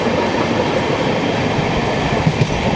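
A passenger train climbing through hilly country on the Kolkata to Mizoram route, a steady loud rumble of carriages with rhythmic wheel clatter on the rails, continuous and close, with no talking.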